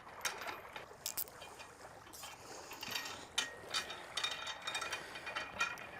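A heavy-duty tie wrap is pulled through an anchor chain, giving faint, quick ratcheting clicks in uneven bursts over a quiet background.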